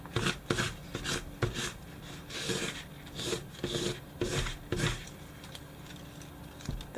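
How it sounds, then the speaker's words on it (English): Rubbing strokes on a styrofoam horn, a series of short scratchy rasping passes in an irregular back-and-forth rhythm, close and fairly quiet, with no talking. "Really rub that in, and then rub that off."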